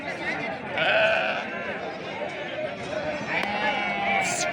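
Several sheep bleat in short, wavering calls amid a noisy crowd of people talking nearby at a sheep market in Amingad, Bagalkot, Karnataka, India.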